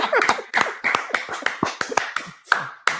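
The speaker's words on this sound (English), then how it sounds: "are you ready to clap for this one?" Clapping during an Academy Awards preview show, a sparse rhythmic series of sharp, close hand claps, roughly a dozen distinct slaps at irregular intervals, with no talk.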